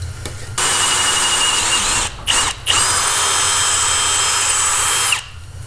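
Power drill boring steadily through a cast-iron Dana 60 steering knuckle from a 2004 Super Duty one-ton front axle, a loud, sustained high whine that briefly stops and restarts twice before cutting off near the end.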